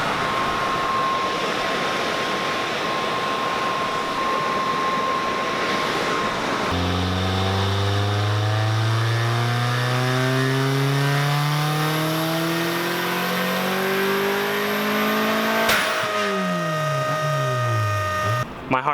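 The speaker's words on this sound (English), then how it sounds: "I had to give it a test rev on the way down to make sure the motor was still spinning" A stock-block car engine under heavy strain, a steady loud roar that then climbs through several revving pulls with rising and falling pitch, close and dominant, ending with a sharp whoosh and a blip near the end.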